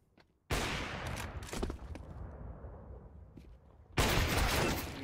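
Rapid bursts of video game gunfire crack in two loud volleys separated by a quieter stretch of shots and debris, with no voices.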